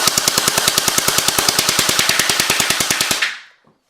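A gel blaster fires fully automatic in one rapid, evenly spaced burst of about thirty sharp shots over three seconds, loud and close, then stops abruptly.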